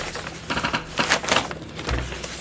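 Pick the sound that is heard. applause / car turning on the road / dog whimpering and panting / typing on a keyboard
typing on a keyboard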